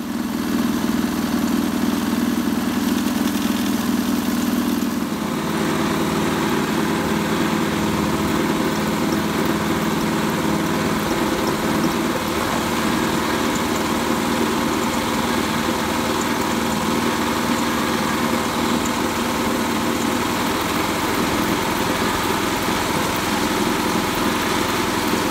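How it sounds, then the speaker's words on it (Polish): A lawn mower engine runs continuously while driving a car alternator, a steady loud mechanical hum and buzz whose tone shifts slightly after about five seconds, with no talking. "Teraz zaczniemy sobie pomiar na kosiarce, na silniku oraz na alternatorze"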